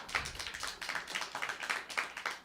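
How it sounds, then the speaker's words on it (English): A small band-show audience claps steadily, a dense patter of many hands at a quick even rhythm, moderately loud and without voices. "You can clap now."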